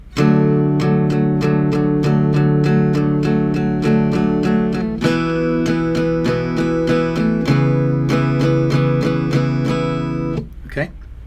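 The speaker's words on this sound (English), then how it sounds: "the strumming of the pattern is pretty much all 8th notes, but the first note is a quarter note" An acoustic guitar strummed in a steady, quick eighth-note rhythm, loud and close, changing chord midway and ending with a brief muted scrape.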